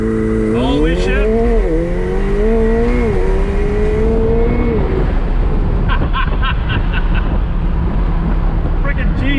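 A 2018 McLaren 720S accelerating hard in launch mode, the engine note climbing through gears with rising and dropping pitch, heard loud from inside the cabin over rushing wind noise while people talk.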